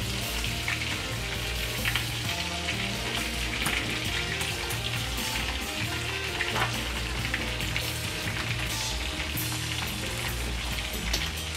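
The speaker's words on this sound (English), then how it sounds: "As the butter is melting, we add our bananas." Bananas sizzle in melting butter in a pan, giving a steady, dense frying hiss with faint crackles that runs unbroken, close and fairly loud, with no talking.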